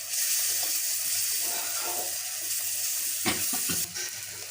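Garlic and ginger paste frying in a hot pan, a loud continuous sizzle with a few stirring scrapes near the end and no talking.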